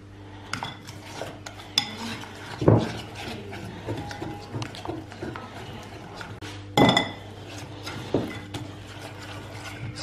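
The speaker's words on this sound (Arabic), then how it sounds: "نخلط مزيان. باش ما يبقاوش لي غرومو ديال لا فارين." Batter being mixed with flour in a bowl to work out lumps, giving a steady run of utensil scraping and light clinking against the dish, with two louder knocks, close and without talk.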